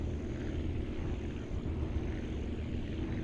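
A propeller aircraft engine drones steadily in flight in the video game Aviassembly, a constant low hum with slight wavering and no voices over it.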